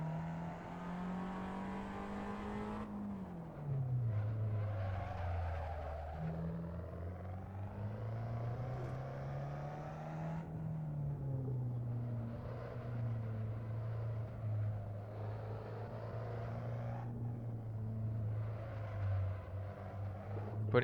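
Race car engine in a racing simulator game, a loud steady drone that climbs through the revs, drops at gear shifts and climbs again, continuous and close with no talk over it.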